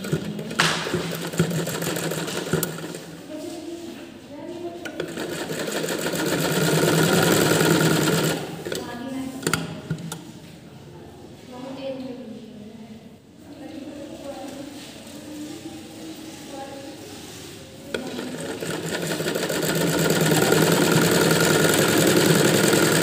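A sewing machine stitching seams on smocking frock fabric, running in steady motorized bursts that stop and restart several times, with someone talking between and over the runs.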